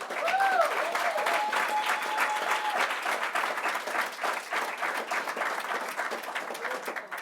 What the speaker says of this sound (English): I got to take a minute to applaud the family members